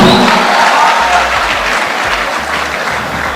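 Audience applause fills a room after a fintech startup's finalist presentation at a hackathon, a dense steady wash of many hands clapping at full volume for several seconds with no talk over it.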